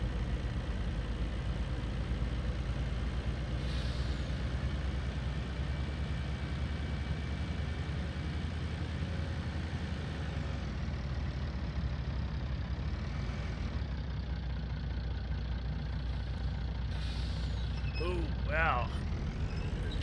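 A tractor engine rumbles low and steady while driving through a valley near a bridge and train tracks in Farming Simulator, a farming video game, with someone talking over it much of the time.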